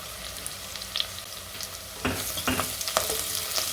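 Chilli powder being stirred into a bottle gourd and dry fish curry in a pan, giving a soft sizzle with scraping stir strokes that grow louder partway through, close and alone.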